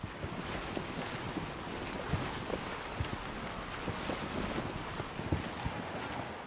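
A boat sailing on the open Mediterranean Sea in the video game Assassin's Creed Origins, with a steady wash of waves and wind and occasional soft knocks and creaks underneath.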